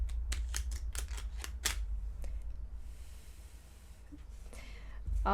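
A rapid run of crisp clicks and riffling snaps, close and quiet, then scattered softer taps, like cards being shuffled by hand.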